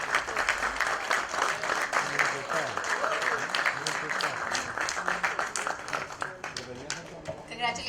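Lively clapping from an audience at a film trailer launch event. It stays continuous and uneven throughout, with voices talking over it.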